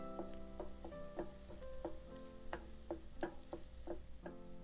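Chopped garlic frying in a pan while being stirred, a soft steady sizzle punctuated by a scattering of light clinks and taps from the spoon against the pan.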